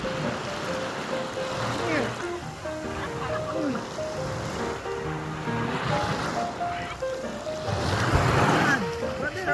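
Sea waves wash in at a beach resort in Nasugbu, Batangas, a steady surf roar with a stronger surge near the end, while people talk over it and wind buffets the microphone.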